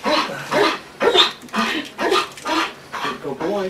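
A trained protection dog barks repeatedly in a steady rhythm of sharp, close barks, about six or seven in a few seconds.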